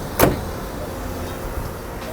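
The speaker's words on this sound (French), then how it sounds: "donc on va fermer le capot" Hood of a Ford Edge SUV slammed shut once near the start, a single short thud, followed by quiet background noise.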